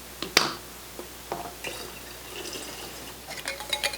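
A vodka and lemon peel mixture for homemade limoncello is poured into mason jars, giving a few sharp splashes and drips that rise and fall over a quiet background.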